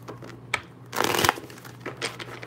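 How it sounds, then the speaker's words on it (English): Tarot cards are shuffled by hand in a quiet room, giving soft papery riffles and a louder flurry of card rustling in the middle, close and gentle. "2 more shuffles and we're ready"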